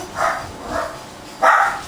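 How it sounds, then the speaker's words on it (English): Several dogs bark in three separate bursts, the last one louder and closer, over a quiet background with no talking. "And my dogs are barking"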